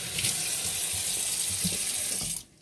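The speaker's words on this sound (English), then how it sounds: "let me wash my hands again" A kitchen tap runs steadily while hands are washed beneath it, a continuous close hiss and splash that cuts off sharply near the end.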